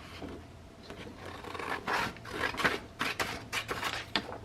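Scissors trimming a printed paper page, a series of crisp rasping cuts and paper rubs coming in short irregular bursts, close and moderately quiet, with no talking.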